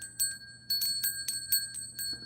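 Small witch's bells used to cleanse a space ring in a rapid jingling pattern, bright sustained tones repeating in quick shakes, close and fairly clear with no talk over them.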